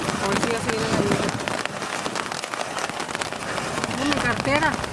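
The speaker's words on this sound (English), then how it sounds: "A ver si ya se viene la lluvia." Rain falls steadily on surfaces outdoors in New Orleans, a constant hiss under people talking in Spanish nearby.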